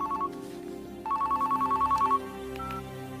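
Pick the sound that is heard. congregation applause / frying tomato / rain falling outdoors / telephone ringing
telephone ringing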